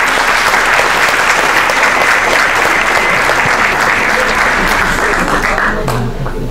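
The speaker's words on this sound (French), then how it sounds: "Vous pouvez les applaudir, hein?" An audience claps steadily through a crowded room at a children's art contest, a dense, loud wash of applause that holds evenly before easing off slightly at the end.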